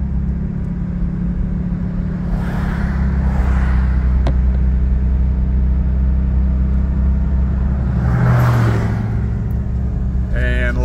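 A Racing Yellow Porsche Cayman 718 GT4 drives on a road in a school zone, its engine a steady, loud low rumble throughout with brief swells of wind or tire noise.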